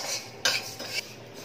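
A utensil scrapes and stirs dry-frying moong dal in a pan over low flame, with two or three quiet scraping strokes and a soft background hiss.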